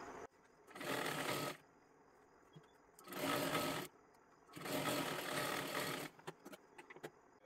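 Sewing machine stitching fabric for a girl's long one-piece dress, running in three bursts of steady motor whir, each a second or more long, separated by quiet pauses, close and moderately loud.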